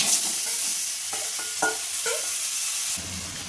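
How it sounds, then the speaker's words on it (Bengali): Marinated chicken dropped into a hot kadai on a gas flame, giving a steady close sizzle with a few stirring scrapes and clanks, no voices. "আমি যে চিকেনটা ম্যারিনেট করে রেখে দিয়েছিলাম সেটা আমি কড়াইতে দিয়ে দেবো"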